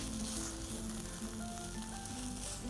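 Green peas and soft fresh paneer being stirred together in a pan for mutter paneer, a steady soft sizzle running throughout with light scraping, no voices.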